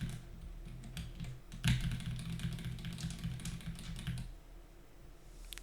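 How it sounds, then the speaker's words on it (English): Keycaps are pressed back onto a mechanical keyboard with no foam inside, giving a close, irregular run of clicks and clacks for about four seconds before the sound drops to a faint quiet. "Now we just put the keycaps back on."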